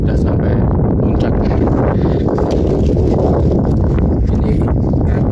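Strong wind roars steadily across a summit trail on Mount Sindoro, a loud, constant buffeting rush that fills the whole stretch with no clear speech.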